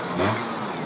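A Montesa four-stroke trials motorcycle engine runs steadily at a close, loud mid-pitched note during a trials competition section, with no talk over it.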